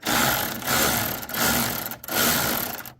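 A ratchet turning a deep socket while installing an aftermarket grille on a Ford F250/350 pickup, four loud bursts of rapid clicking ratcheting separated by short pauses, close up with no talk.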